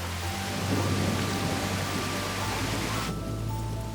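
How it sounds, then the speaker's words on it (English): Heavy rain pouring down outdoors as a hailstorm turns into a downpour, a dense, steady roar of falling water with low rumbling underneath, constant and loud throughout, with no voices. "the hail quickly turns into a downpour."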